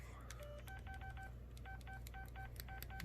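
A phone keypad being pressed, a quick series of dialing beeps in irregular groups over a faint background hum, fairly quiet and close.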